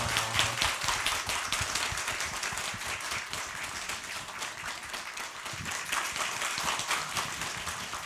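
A studio audience at a Korean Buddhist broadcast special applauds to welcome a guest, a sustained steady wash of many hands clapping for several seconds, fairly distant and even.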